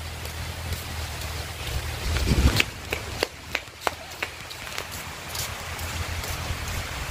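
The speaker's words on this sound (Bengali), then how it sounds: "বৃষ্টি কমে আবার বৃষ্টি আসে, বৃষ্টি কমে আবার আসে" Rain falls outdoors in a village, a steady wash of noise with wind buffeting the microphone and a few sharp knocks and drips partway through.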